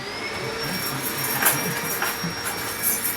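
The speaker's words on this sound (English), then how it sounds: "you could hear the vacuum cleaners" Vacuum cleaners run in a lecture hall as a cleaning crew comes through, a steady broadband whooshing drone with a thin high whine that holds for the whole stretch at a moderate level.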